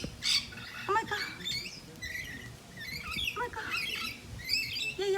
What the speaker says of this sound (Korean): 얘 야생 앵무새예요.